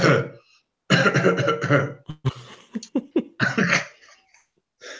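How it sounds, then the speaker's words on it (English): A person coughs and clears their throat in a few bursts with breathy pauses, close up, with short vocal sounds between. "I do the cough."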